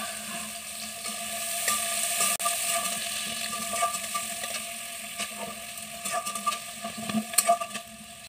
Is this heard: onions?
yes